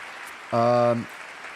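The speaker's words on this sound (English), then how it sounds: "You gotta get air horns and applause going." A single air horn blares for about half a second over a steady wash of crowd noise that could be clapping, during a live stream.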